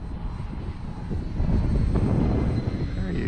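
An FMS CJ-6 V2 RC model airplane makes a low presentation pass in gusty wind, its engine droning steadily and swelling slightly as it passes close by, with wind buffeting beneath.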